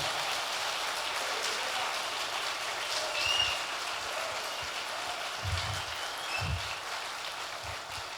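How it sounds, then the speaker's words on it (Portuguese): A church congregation claps in sustained, dense applause at a moderate level, an even patter lasting throughout with a few soft low thumps. "queria pedir uma salva de palmas para eles"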